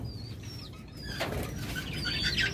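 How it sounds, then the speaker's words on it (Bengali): Diamond doves coo among other small birds in a bird shop, with soft calls and chirps, a brief burst of flapping wings in the middle, and a busy, fairly faint aviary background. "অসংখ্য পরিমাণ বাজরিগার পাখি এবং ডায়মন্ড ডাব"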